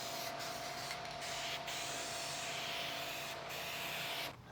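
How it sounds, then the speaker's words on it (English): An aerosol spray paint can, a Duplicolor metallic, mists a car fender with a steady, faint hissing spray broken by a few brief pauses, no voices. "This particular aerosol can doesn't have a real wide spray pattern."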